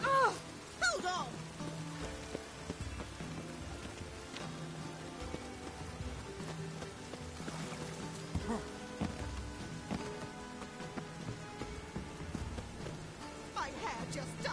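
Steady rain falls and patters on surfaces in The Witcher 3, a constant hiss with scattered drops, laid under game music and a voice speaking.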